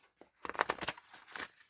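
A short riffle of tarot cards being shuffled, a quick papery flutter in a couple of bursts, close and fairly soft.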